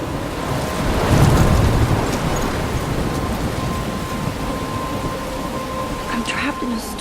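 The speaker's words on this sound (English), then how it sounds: "I'm trapped in a storm?" Heavy rain and storm in the video game Life Is Strange: a steady, dense roar of downpour that swells early on, then holds as a constant wash, with faint higher sounds near the end.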